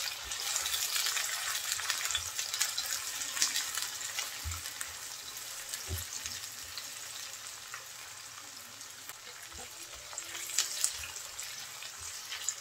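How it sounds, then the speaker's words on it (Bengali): Onions frying with bay leaves in a pan for a Bengali chickpea dal dish, a steady close sizzle and crackle with occasional soft stirring knocks, no voices. "পেঁয়াজটা একটু ভেজে নেব।"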